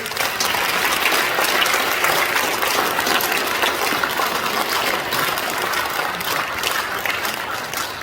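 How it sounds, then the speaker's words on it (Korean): At a Korean church ceremony launching a memorial hall, the gathered audience claps in welcome during a presentation, a loud, sustained roar of many hands from start to finish. "우리 전달할 때 박수로 환영해 주시죠"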